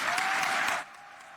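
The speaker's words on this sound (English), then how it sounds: "Can we hear a round of applause for the RAs?" Audience applause for the RAs at the closing ceremony of the Mawhiba international program, a dense burst of clapping that stops abruptly after under a second, leaving a quiet room.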